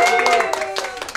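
Hotel staff at a fun quiz event give a brief burst of clapping and applause, with a voice talking over it.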